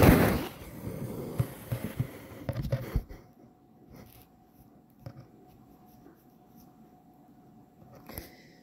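A marker scratches and squeaks across a sketchbook propped on an easel while drawing a portrait, with close, quick strokes for about three seconds, then quiet with faint occasional taps.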